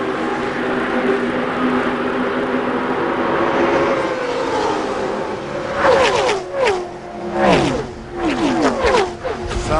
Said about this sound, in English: that's the prettiest thing I've ever heard when those cars come off the corner like that